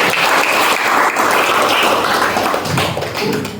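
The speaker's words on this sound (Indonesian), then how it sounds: "Untuk itu kita berikan sambutan tepuk tangan yang meriah." An audience breaks into dense, sustained applause at a village community ceremony in Indonesia, loud and close, continuing without a break for the whole stretch.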